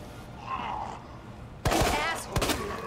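Gunfire in Resident Evil 2 comes as a few sharp, loud shots in quick succession after a quieter opening, with a voice speaking in the background.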